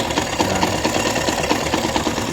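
A Rouser 180 motorcycle engine runs loud with its exhaust pipe covered, a dense, rapid mechanical clatter and knock pulsing steadily up close with no talk.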